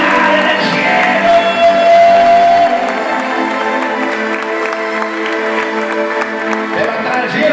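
Church congregation clapping and cheering loudly, a dense crowd roar with shouts and whoops at the start that eases into sustained applause under held musical tones, with a voice rising near the end.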